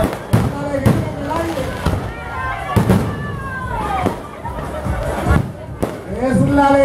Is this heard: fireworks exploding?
yes